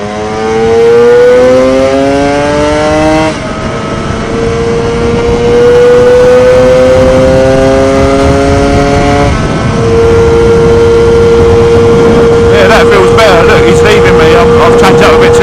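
A Lambretta Targa Twin 275cc piston-ported two-stroke scooter with a five-speed gearbox and twin pipes rides past, its buzzing engine loud and near, climbing in pitch through the gears with clear shifts, while a voice talks over it.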